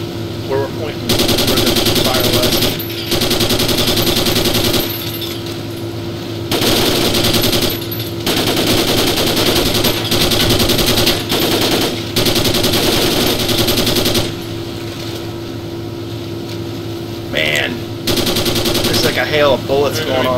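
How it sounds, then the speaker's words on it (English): Bursts of machine gun fire ring out in long repeated volleys near a river bend, a hail of bullets with brief pauses between strings of shots over a steady boat engine drone. "Hail of bullets going on around."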